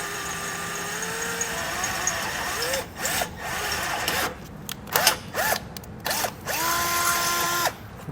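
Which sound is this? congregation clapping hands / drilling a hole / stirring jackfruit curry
drilling a hole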